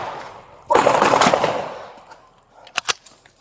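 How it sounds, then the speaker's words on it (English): Gunshots fired during a police foot pursuit, an officer-involved shooting: a loud dense burst of cracks lasting over a second, then two or three sharper isolated reports close by. "Shots fired. Shots fired. Officer needs help."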